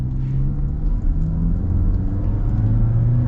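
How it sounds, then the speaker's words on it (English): A 2024 Nissan Altima AWD with an Xtronic CVT accelerates, heard from inside as a loud, steady low engine rumble and road drone that holds even with no break, with no talk. "I guess this will be our real acceleration that we'll get here with the Altima."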